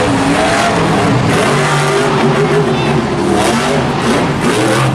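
A monster truck engine at a Monster Jam event in Anaheim roars loudly and continuously, revving in a rhythmic throttle pattern, with a commentator talking over the dense arena noise.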